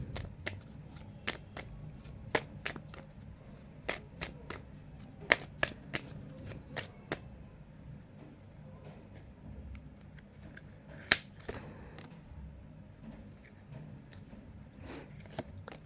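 Tarot cards are shuffled and picked, giving sharp crisp snaps and riffles scattered irregularly against a quiet room, some clusters quick and others spaced apart.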